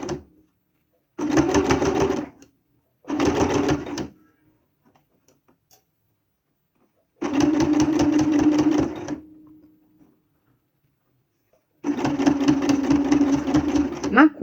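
A sewing machine stitches bias binding in four separate runs of rapid, loud mechanical whirring and ticking, with silent pauses between them.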